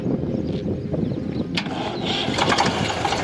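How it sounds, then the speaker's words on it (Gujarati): A second-hand Eicher 485 tractor engine cranks and catches, settling into a steady rumbling idle with a sharp click partway through, fairly close and continuous. "હવે તમને ટ્રેક્ટર ચાલુ પણ કરીને બતાવીશું"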